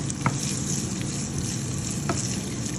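Dried red chillies and onion fry in hot oil for a Jaffna-style stingray varai, a steady close sizzle running throughout with a couple of sharp stirring clicks.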